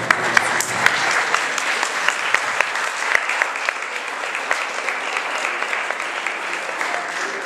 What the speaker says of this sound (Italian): Prima momento volevo fare un applauso a questi ragazzi che sono Lorenzo Fontanella, Luca Barandocci